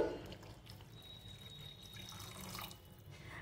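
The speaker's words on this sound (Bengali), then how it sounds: "আমি এটা একটু ক্যারি বানাবো, সেই হেতু এর মধ্যে আমি দিয়ে দেবো সামান্য জল।" A small amount of water poured into paneer masala curry in a pan, a faint steady trickling and splashing that runs for a few seconds without pause.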